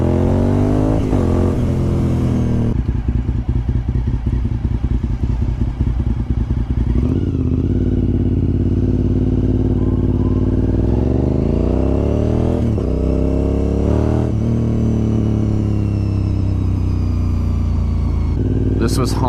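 A Honda RC51 SP2 V-twin sport motorcycle is ridden, its loud close engine rumbling and revving up and down through the gears.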